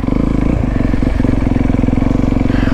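A 2023 Honda CRF 250R dirt bike runs steadily up close at Washer Valley, its engine note holding a dense, continuous drone with a brief dip near the start, loud throughout and with no voices.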